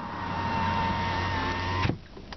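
Power windows on a 2012 Kia Optima Platinum run with a steady electric motor whine and hum for about two seconds, ending in a soft thunk as the glass stops, followed by quiet.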